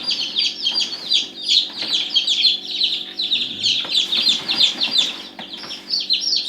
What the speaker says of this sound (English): this is the bantam, which for those of you who don't know just means small chicken